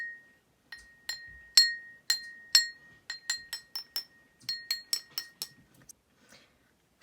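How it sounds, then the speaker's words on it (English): Two identical cups struck in turn to compare their pitch, a series of bright glassy clinks ringing with the same sustained tone, quiet and close, tapped in an irregular quick rhythm. "So the pitch of both of these glasses or these cups is the same."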